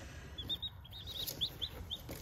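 Baby chicks in a small brooder box in a garage give a series of thin, high cheeping peeps, roughly half a dozen short calls over soft, quiet background noise.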